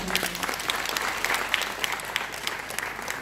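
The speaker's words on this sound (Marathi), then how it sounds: "आणि तसेच त्यांचे गुरुजी मनु श्रीवास्तवजी यांच्यासाठीही एकदा जोरदार टाळ्या." Audience at a live show in Nashik claps loudly and continuously, a dense, even wash of applause with no break.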